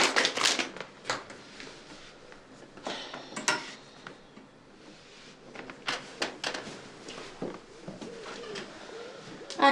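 Pigeons or doves coo amid scattered clattering and shuffling noises, with brief sharp bursts recurring through a fairly busy close-up scene.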